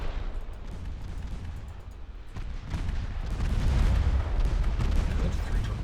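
Torpedoes striking a cruiser in the naval battle game Ultimate Admiral Dreadnoughts, heard as a rolling rumble of muffled booms and blasts that swells louder toward the end, with no talking.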